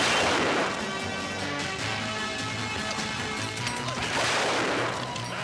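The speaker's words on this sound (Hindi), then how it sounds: "ये तो रियल में गोली चल रहा है" Dense, sustained gunfire crackles without pause, with heavy booms and bursts rolling underneath, loud and chaotic like a battle in full swing.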